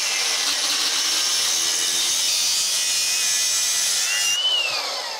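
A reciprocating saw buzzes continuously through a metal car part from a Peugeot 206, a harsh high rasp that holds steady before the blade pulls free with a brief whine.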